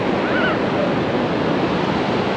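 Steady broad rush of surf washing onto a beach in Da Nang, Vietnam, continuous and fairly loud, with wind noise and no clear voices.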